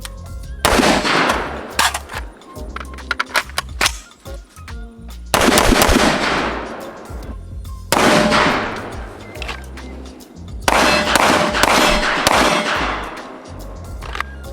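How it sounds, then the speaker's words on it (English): Rapid gunfire from a Cox Arms USA rifle, fired in several loud bursts of sharp cracks separated by brief pauses, with no talking. "I've had an absolute blast shooting this rifle."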